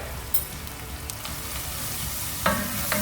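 Turmeric sautéing in a pan for vermicelli soup, a steady close sizzle running throughout, with a few sharp clicks of a utensil against the pan.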